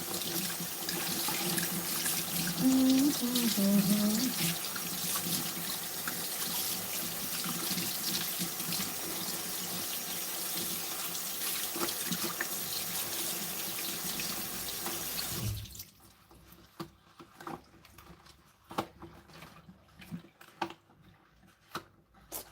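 Hot water gushes steadily from a tap for a long stretch, then cuts off, leaving scattered drips and small knocks in near silence.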